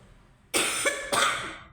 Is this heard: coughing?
yes